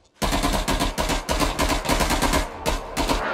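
Heavy automatic gunfire from a Hell Let Loose match, loud and close, with sustained rapid bursts broken by brief gaps, the shots overlapping into a dense continuous rattle.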